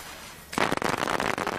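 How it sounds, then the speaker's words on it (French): Firecrackers go off after a quiet start, a sudden loud burst of rapid crackling pops that keeps rattling on without pause until the end. "Ce serait pas des pétards?"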